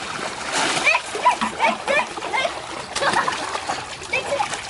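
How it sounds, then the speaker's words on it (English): Children splash about in a swimming pool on a sunny day, with repeated close, lively bursts of splashing water running throughout and voices talking and shouting over them. "Oh, splash!"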